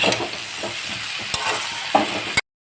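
Young jackfruit frying in hot oil gives a close, crackling sizzle with a few sharp spatula taps, ending abruptly.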